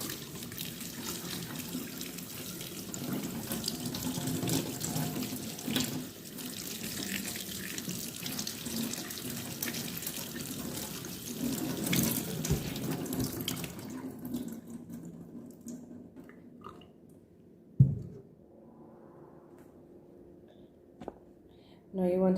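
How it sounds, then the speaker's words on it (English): Saltfish being rinsed under a running kitchen tap, a steady hiss and splash that goes on for about fifteen seconds before the water cuts off, followed by a clunk and faint handling sounds. "I'm just washing out some of the excess salt off of it, and then I'm going to boil it with the ackee."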